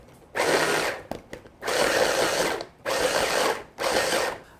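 An electric food chopper runs on onion, celery and other vegetables in short bursts, whirring and rattling loudly at close range. There are four pulses with brief gaps and small clicks between them, and no talk.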